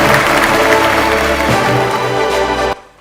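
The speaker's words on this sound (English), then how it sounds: "Let's give Team Mindshare India a big round of applause." An awards-ceremony crowd gives loud, sustained applause for a winning team, a dense wash of clapping that cuts off abruptly near the end.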